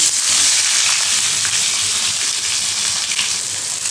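Onion, green chilli and capsicum fry in hot oil for chilli chicken, giving a loud, continuous sizzle that stays close and steady with no talking.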